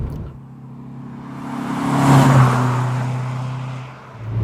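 A 2004 MG ZR 105 hatchback with a 1.4-litre Rover K series engine drives past, its engine hum rising as it nears, peaking at mid-pass and then fading away.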